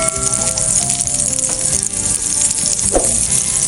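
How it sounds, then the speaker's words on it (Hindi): Marinated chicken liver frying in hot oil on a tawa, a loud, close, continuous sizzle with a brief scrape of stirring near the end and no voices. "जब ऑयल गरम हो जाएगा, इसमें डाल देंगे मैरिनेट की हुई कलेजी।"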